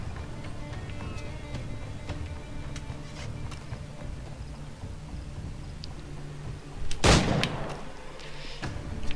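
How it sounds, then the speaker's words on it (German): Single loud cannon shot in the pirate video game Assassin's Creed IV Black Flag, a sharp booming blast rising above a constant bed of ambient game noise and scattered small clicks. "Schuss."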